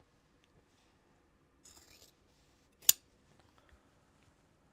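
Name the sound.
scissors cutting Japanese fabric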